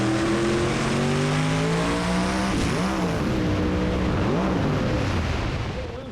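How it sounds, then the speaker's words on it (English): Roaring engines of no-prep drag cars scream as they accelerate side by side, pitch climbing through gear shifts, loud and continuous, then fading slightly at the end. "Boy, what a great side-by-side drag race."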